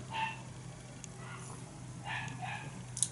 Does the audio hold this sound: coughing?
no